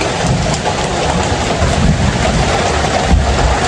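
Heavy rain falls steadily in a dense, hissing wash, close and continuous with no pauses.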